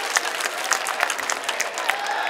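An audience applauds in welcome of Ishraq Hossain at a political gathering, a dense, steady clapping of many hands, fairly close and continuous with scattered sharper claps.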